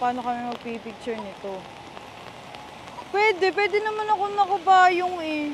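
Heavy rain in Singapore makes a steady background hiss beneath people chatting and laughing close by.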